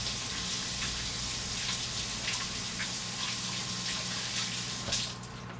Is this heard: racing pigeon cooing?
no